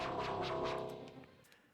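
Layered Ableton Collision synthesizer preset run through effects: a shimmering, resonant tone with bright metallic partials and soft repeated attacks, fading over under two seconds.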